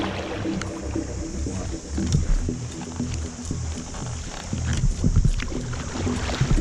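A kayak is paddled on open water during a fishing outing, with steady splashing and washing water noise and a soft wind rumble running throughout, with no talking.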